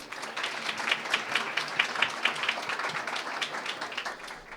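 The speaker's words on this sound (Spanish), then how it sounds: "un aplauso para todos ustedes" Applause from the audience at a panel event on Ecuador's economic model: a dense, steady patter of many hands clapping that fills the whole stretch at moderate level, with no voices on top.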